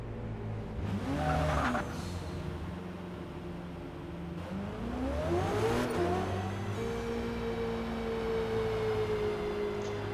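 A Ferrari race car in a racing video game roars through its gears, the engine pitch climbing and dropping with each shift while tires squeal briefly through corners, loud and continuous with no talking.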